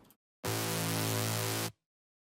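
A heavily distorted, saturated synth tone passed through a chorus rack with a low cut sustains loud and thick for just over a second, then cuts off abruptly into silence.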